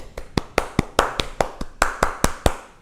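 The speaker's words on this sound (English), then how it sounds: "A round of applause to you, man." One person clapping hands about a dozen times in a steady, even rhythm, close and crisp, with no voices over it.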